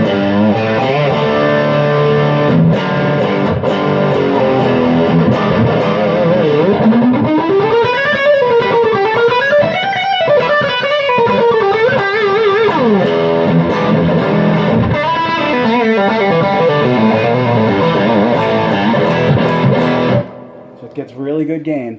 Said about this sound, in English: you're going to hear that fuzz or that hum gets a lot more